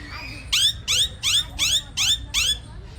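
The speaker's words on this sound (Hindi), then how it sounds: "और यहाँ आप आवाज़ सुनिए इस दोनों तोते का" Two parrots give a series of six sharp, rising squawking calls, evenly spaced about half a second apart, close and loud over a low background hum.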